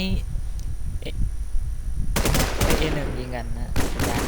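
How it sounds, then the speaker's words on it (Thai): Rapid automatic gunfire bursts in the online shooter WarZ, loud and close, sharing the mix with game sounds and someone talking over the action. "โอ้โหยิงกันนัวตอนนี้ยิงกันนัว"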